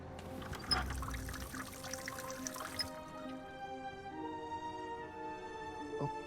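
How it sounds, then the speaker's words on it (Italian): Running water from a tap in The Raven Remastered game, a steady pouring splash for about three seconds that fades into softer trickling and drips with a lingering tonal hum, heard alone. "Apri il rubinetto dell'acqua."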